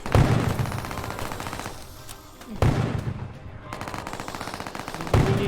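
Rapid automatic gunfire rattles in long sustained bursts in a Roblox zombie school game, loud and close, with a short lull between the bursts and a sharp new burst at the end.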